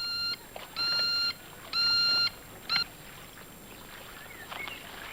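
An electronic bleeper device prop from the film From Russia with Love gives three steady, high, clear beeps of about half a second each with short gaps, then a brief fourth chirp, over faint background hiss.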